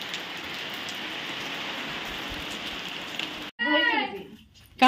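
Rain falls steadily in a soft, even hiss, broken near the end by a voice.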